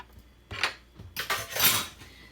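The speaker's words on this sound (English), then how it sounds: "making sure that that's getting all nice and stirred there" A cooking pot being stirred, a utensil scraping and clinking against the metal sides in a few quick strokes, close and fairly loud, with no voices.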